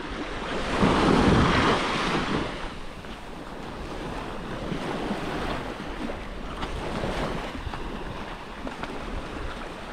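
Waves roll onto Long Beach on Koh Rong island, Cambodia: one loud surge crashes early, then a continuous hissing wash of surf carries on, mixed with wind buffeting the microphone and no talking.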